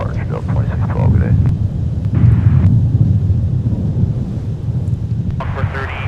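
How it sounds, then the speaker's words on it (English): Broad, steady low roar of a Dash 8 turboprop airliner departing MSP airport in winter, a sustained rumble with wind noise, under radio chatter and voices. "There goes our Dash 8 too."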